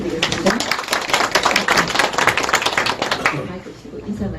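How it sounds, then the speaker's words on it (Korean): Audience clapping at a Korean poetry reading event welcoming a guest poet, dense and lively for about three seconds before thinning out, with voices mixed in. "박수를 한번 더 부탁드리겠습니다."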